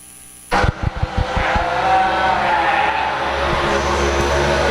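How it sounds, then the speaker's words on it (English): At a sheep show, after a moment of quiet, a few sharp bursts give way to a loud, sustained tractor pull engine roar that holds steady to the end. "Sound like the tractor pull is getting wound up"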